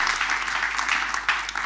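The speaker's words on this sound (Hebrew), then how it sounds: "קודם כל, מחיאות כפיים סוערות" Loud, dense applause filling a conference hall at an independent press event, steady clapping throughout with no voices rising above it.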